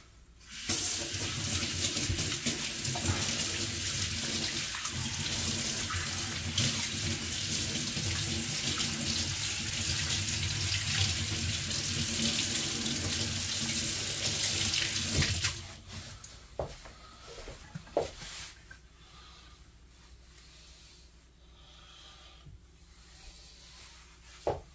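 Tap water runs steadily and loudly into a sink during pizza dough preparation, a continuous close rushing flow for about fifteen seconds that then stops, leaving quieter scattered handling clicks and knocks.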